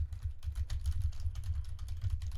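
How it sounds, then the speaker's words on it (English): Rapid typing on a computer keyboard set on a shaky desk: a steady run of close, crisp key clacks, each with a heavy low thump as the desk shakes beneath them. "This is about probably what it sounds like when someone types on a shaky desk, or when someone types with tactile switches"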